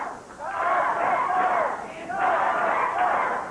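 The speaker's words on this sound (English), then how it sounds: "Crowd getting in behind Dutch Mantell." A wrestling arena crowd at a 1982 Memphis match roars and cheers for Dutch Mantell, a sustained loud swell of voices that dips briefly and surges again.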